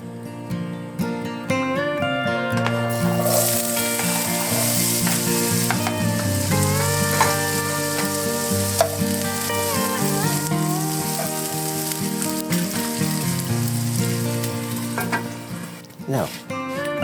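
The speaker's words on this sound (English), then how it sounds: "Get those potatoes frying in a bit of oil." Steady, close sizzling of potatoes frying in hot oil, with crackling and occasional stirring sounds, under what sounds like background music.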